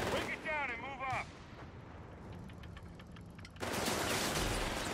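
Mortar and artillery fire in the video game Company of Heroes 3 rumbles in the distance beneath a short burst of speech, then a loud close blast erupts into sustained roaring noise.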